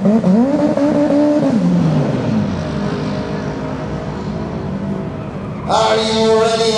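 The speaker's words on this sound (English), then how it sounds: "First pass of the night for the Mitsubishi, right side as usual." A 1992 Mitsubishi Eclipse launches on a drag strip, its engine revving up and sweeping through gear changes, then fading to a distant drone before another loud engine roars in close near the end, all under an announcer's voice.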